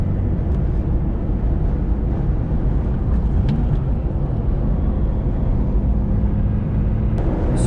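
A vintage air-cooled Porsche cruises on the highway, its engine a steady, loud low-frequency drone blended with road and wind rumble, continuous throughout from inside the car.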